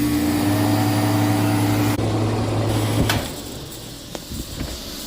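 A refrigeration compressor with an internal leak runs with a steady low hum and mechanical drone, then shuts down about three seconds in, leaving faint clicks and a quieter residual hiss.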